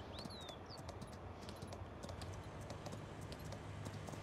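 Horse hooves clip-clop in Farming Simulator 19, a quiet steady run of hoofbeats with a faint background hum and no talking.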